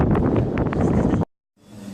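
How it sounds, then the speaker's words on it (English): Gusty wind buffets a microphone outdoors at a London Olympic location, a dense rumbling roar for over a second that cuts out abruptly, then returns more faintly after a brief silence. "it's a bit windy here"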